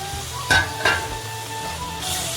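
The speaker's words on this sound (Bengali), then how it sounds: "তারপর ভালো করে নাড়িয়ে নেবো" Fish curry with tomato and coriander stirred in a pan, two sharp metallic clinks of a spoon on the pan over a soft background sizzle, then a brief hiss near the end.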